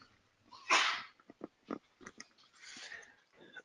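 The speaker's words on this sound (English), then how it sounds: "just sneezing there" A single loud sneeze bursts out near the start, followed by a few brief sniffs and small mouth noises, with a second softer breathy exhale near the end, all close to the microphone in a quiet room.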